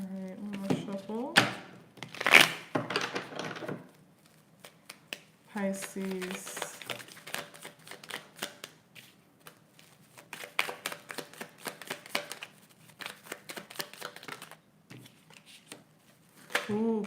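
Tarot cards are shuffled in short bursts of riffling and soft slaps, close by, recurring through the stretch while someone talks over and between them.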